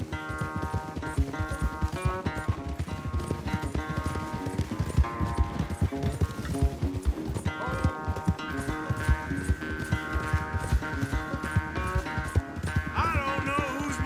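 Horses gallop hard during a race in the video game Red Dead Redemption 2, rapid pounding hoofbeats close and continuous beneath a swelling orchestral score, with the music and thudding strides carrying on together throughout.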